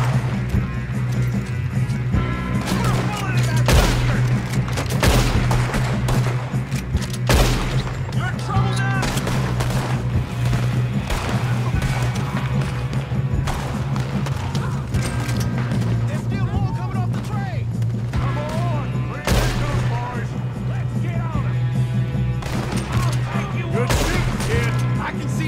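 Scattered gunshots in Red Dead Redemption 2, sharp cracks at irregular intervals over a steady droning background, with voices talking at points across the stretch.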